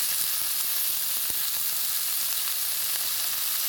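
Chicken sears in a hot pan with a steady, dense sizzle and crackle, close and even throughout, with occasional small pops and no talking.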